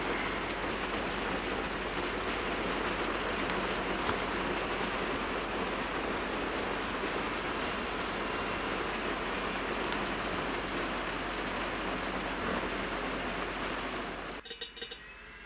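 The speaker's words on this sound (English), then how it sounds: "We're getting a little bit of rain today." Rain falling at Echo Bay Marina in the Broughton Islands, a steady even hiss of drops on surfaces that carries on without a break and cuts off abruptly near the end.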